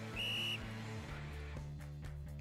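A coach's whistle in a video game gives one sharp, shrill blast lasting about half a second, loud over a steady background music bed.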